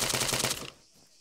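Rapid full-auto gunfire in the military shooter Arma 3, a fast rattling burst of shots that cuts off abruptly after about half a second, leaving a quiet tail.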